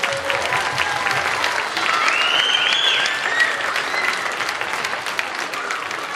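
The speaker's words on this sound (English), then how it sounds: "If we give the fourth and sixth graders one more round of applause" Parents and families applaud fourth and sixth graders at an elementary school winter concert, sustained clapping for about six seconds with a whistle and some cheering mixed in.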